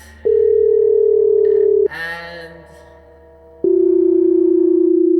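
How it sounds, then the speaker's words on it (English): A telephone line after dialing 911 gives a loud steady electronic tone that breaks off for a moment of muffled noise, then the same sustained tone returns. "I'm just gonna call emergency. I'm gonna go over here and dial 911"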